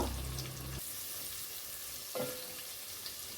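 Spices crackle in hot oil for potato tempering, with a loud burst at the start, then settling into a softer continuous crackle with a brief flare partway through.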